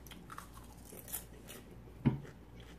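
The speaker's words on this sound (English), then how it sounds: "Popcorn make you chew fast." Close, crunchy chewing of popcorn, with soft repeated bites and one sharper crunch standing out, quiet with no talking.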